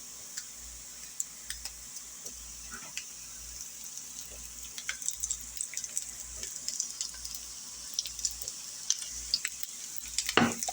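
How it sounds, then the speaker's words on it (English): Spam browning in olive oil in a frying pan, a soft sizzle under a dense patter of small crackles and ticking pops that grow busier toward the end. "Now I'm going to add 2 tablespoons of olive oil to the pan."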